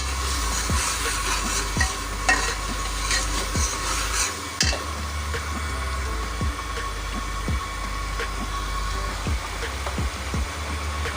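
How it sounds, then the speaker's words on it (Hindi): Ground spices and garam masala fry in a pan with a continuous loud sizzle, while a spoon scrapes and stirs in a regular rhythm against the metal, sometimes knocking on the rim. "अब हम मसाले को अच्छे तरीके से भून लगाएंगे।"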